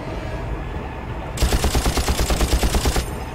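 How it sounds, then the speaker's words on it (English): Loud, rapid machine-gun fire in the Far Cry video game bursts in abruptly after a moment of low background rumble, a dense rattling volley lasting about two seconds before cutting off. "Hey, who's shooting me?"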